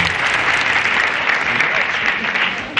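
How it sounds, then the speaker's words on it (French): A crowd applauds steadily, dense clapping filling the room at constant loudness from start to finish. "Elle est là, sous vos applaudissements."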